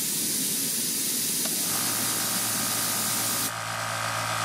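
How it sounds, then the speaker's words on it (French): A 1500 watt air compressor powered by a Jackery Explorer 2000 Plus power station starts with a steady hiss that gives way to a humming motor drone, rising to a stronger whine near the end, close and continuous, with no talking. "Compresseur de 1500 watts"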